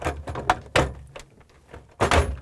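A Samsung DA97-11117A ice bucket and auger assembly slides into a refrigerator's plastic housing with scraping rubs and several close hollow knocks, ending in a louder bump as it seats.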